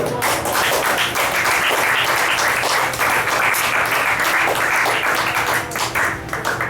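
Sustained applause from a church congregation, a dense, steady wash of many hands clapping throughout, fairly loud and close, with faint voices underneath.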